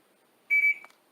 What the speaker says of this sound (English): It has an audible beep.